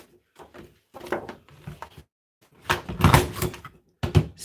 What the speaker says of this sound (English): let's punch out a little chair here